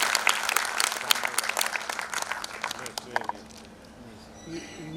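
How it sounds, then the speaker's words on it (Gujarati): An audience at a poetry event breaks into dense applause welcoming poet Bharat Bhatt, the claps thinning out after a few seconds into quieter room sound. "જોરદાર તાળીથી આપણે વધાવી લઈએ."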